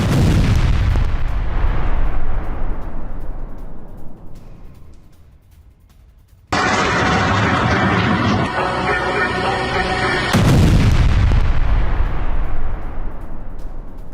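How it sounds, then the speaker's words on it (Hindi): Heavy bombing of Russian positions by a Ukrainian MiG-29 fighter jet: loud, booming blasts with long rumbling decays, a brief near-silent lull, then a sustained roaring burst and another rolling boom. "अलेस्की में रूसी ठिकानों पर बमबारी हुई है।"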